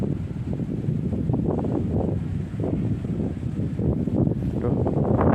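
Strong wind buffeting the microphone outdoors at a fishing spot, a loud continuous rumbling roar that swells and eases with the gusts, no voices.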